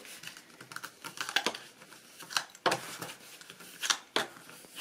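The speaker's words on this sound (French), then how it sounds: "je prends mon plioir et je vais marquer tous mes plis" A bone folder scoring fold lines into paper for a scrapbooking mini album, with a series of short, close scraping and rubbing strokes in an irregular rhythm, fairly quiet.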